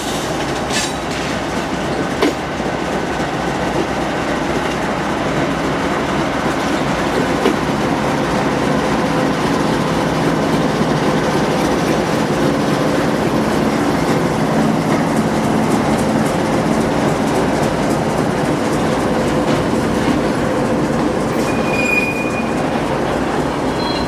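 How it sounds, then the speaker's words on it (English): A Norfolk Southern freight train led by an AC44C6M and an ES44AC locomotive rolls past steadily and loudly, with continuous railcar rumble, wheel noise and clickety-clack, and a brief wheel squeal near the end. "the two engines leading this train are a AC44C6M and an ES44AC"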